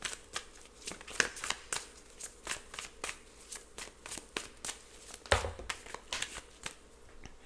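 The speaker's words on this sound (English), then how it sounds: "y'all have just seen how many times I've shuffled" Tarot cards are shuffled close up, a quick run of crisp riffling flutters and slaps repeating steadily, with one heavier tap partway through.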